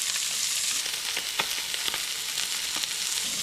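Sheepshead fish coated in Cajun seasoning frying in a hot pan, giving a continuous loud sizzle and crackle with a few small pops, and no one speaking.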